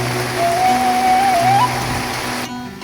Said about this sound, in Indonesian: ternyata hujannya turun lagi